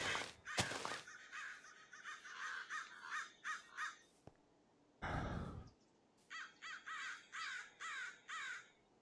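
Crows caw in a farming village game, a series of harsh, rasping calls in short bursts separated by pauses, fairly close and loud against a quiet background.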